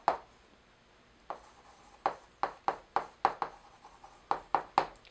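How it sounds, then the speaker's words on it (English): Marker or pen strokes on a whiteboard while writing out a calculus integration by parts formula with secant and tangent, a series of short sharp taps and squeaks in a quick uneven rhythm, close and alone. "I guess I'll write that over here."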